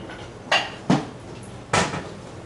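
Bowls being set down and handled on a kitchen counter while making mesquite bean flour, three distinct knocking clunks spaced apart, fairly close and alone with no talking.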